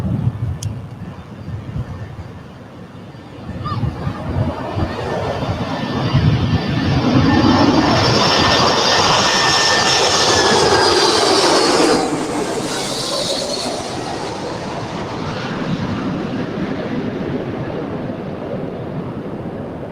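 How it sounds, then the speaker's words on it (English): Delta Boeing 767-400 airliner landing at LAX on arrival from JFK, a broad jet roar that swells and sustains for many seconds, loud and close, then slowly fades, with no talk over it. "That was a Delta 767-400 coming in from JFK."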